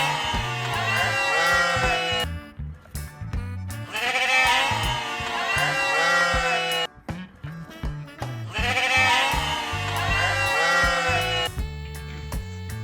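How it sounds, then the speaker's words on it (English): Sheep bleat in three long wavering calls separated by short pauses, loud and close, over a steady background music bed. "Sheep. S-H-E-E-P. Sheep."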